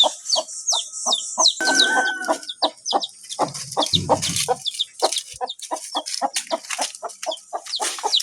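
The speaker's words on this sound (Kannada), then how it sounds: "ಆ ಕೋಳಿ ಅಂತೂ ಬಂದು ಕರೀತದೆ." A hen clucks repeatedly in a rural home yard, sharp close calls in quick irregular succession among other fowl, with a brief rooster-like call partway through and no talk.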